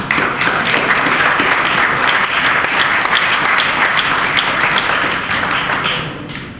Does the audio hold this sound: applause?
yes